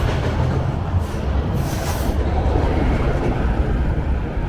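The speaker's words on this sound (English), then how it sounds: "Well, there goes my train." A New York City subway train on the W and N line in Astoria, Queens, passes with a loud, steady rumbling roar that holds for several seconds with no voices over it.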